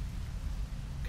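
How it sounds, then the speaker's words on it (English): Rain in the video game Rain World, a brief steady wash of falling rain with a low rumbling undertone. "Oh, it's raining."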